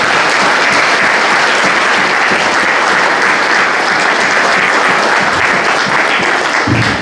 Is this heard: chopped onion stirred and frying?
no